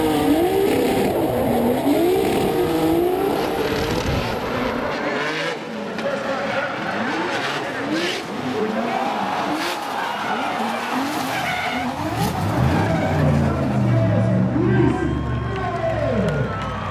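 Hyundai Genesis Coupe drift car at Irwindale, tires skidding and squealing continuously with loud engine revving throughout, a crowd faintly audible underneath.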